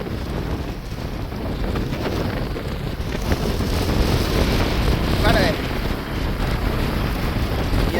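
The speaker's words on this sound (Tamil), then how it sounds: "இப்போ ஒரு திடீரென்று வந்து காற்று அதிகமாக இருக்குது" Strong, sudden wind roars steadily across the microphone with a broad, rushing noise throughout, over what sounds like open water, at a bridge in Jaffna.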